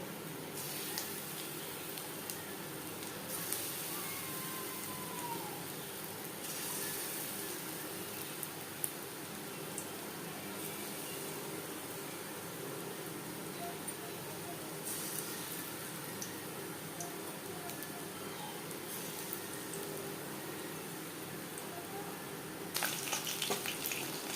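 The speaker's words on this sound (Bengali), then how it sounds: "এবার আমি চিলি চিকেনের জন্য পাকোড়া ভেজে নেব।" Chicken pakoras for chilli chicken fry in hot refined oil, a steady, fairly quiet sizzle and crackle that holds evenly throughout with no voices.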